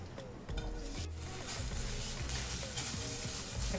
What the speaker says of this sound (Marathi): त्याच कढईमध्ये आता आपण खवा परतवून घेणार आहे